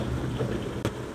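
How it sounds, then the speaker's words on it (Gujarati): Heavy rain pours down steadily, a dense, loud hiss with low rumble filling the brief moment, broken by a sharp crackle near the end. "ધબધબાટી વરસાદ પડે છે."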